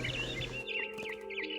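A barn swallow chirps in a quick series of short, bright twitters over a steady background hum, with no speech, in the video game What Remains of Edith Finch.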